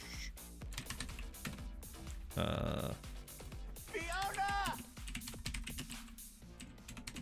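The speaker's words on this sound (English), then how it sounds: "just typing in like the" Fast clicky keystrokes rattle on a computer keyboard in quick irregular bursts, close up, while someone talks over them and briefly makes a buzzing vocal noise.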